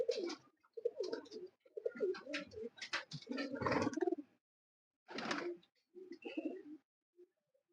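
Breeder pigeons coo close by in a series of soft, throaty, rolling calls, several bursts in a row followed by a pause and a few more coos, with no talking.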